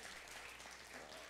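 A congregation gives a steady round of hand clapping for a church drummer, dense and even throughout, fairly quiet and slightly distant.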